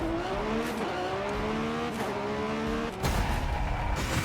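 A sports car engine in Forza Horizon 5 accelerates hard, its pitch climbing steadily through quick gear shifts with brief dips between them, loud and continuous, with a rougher surge near the end.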